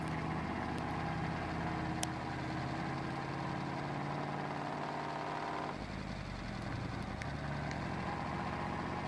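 A truck engine driving in a farming game, a steady low drone humming continuously with a slight shift in tone partway through and a few faint clicks above it.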